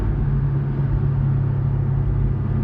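Steady low engine drone from a Porsche 718 Cayman S with its sport exhaust open, held in fourth gear around 4,000 rpm, a continuous loud rumble with a firm tonal hum throughout.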